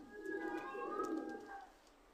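Imported high-flying pigeons coo in a low, rolling murmur that runs steadily for about two seconds, close and moderately loud, with no talking over it.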